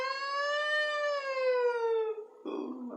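A human voice imitates a passing ambulance siren, a single sustained wail that slowly drops in pitch over about two seconds, followed by a short breathy tail.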